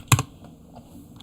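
A short burst of close computer keyboard typing, two quick clacking keystrokes entering a command, followed by quiet room tone.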